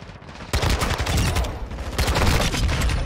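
Loud, dense bursts of automatic gunfire from Call of Duty Modern Warfare II, with the KASTOV 74u in use: continuous rattling volleys close by, rising again after a brief lull.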